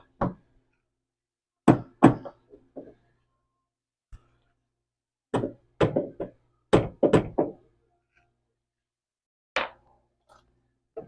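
Dull, solid knocks in scattered bursts of two to four blows with pauses between, a rubber mallet striking metal parts up close while installing a tubular subframe on a 1989-1997 Thunderbird or Cougar.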